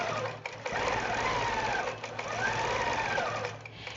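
A sewing machine free-motion quilting in regulated precise stitch mode runs with a steady, close, rapid whir, briefly dipping as it slows and stops at points.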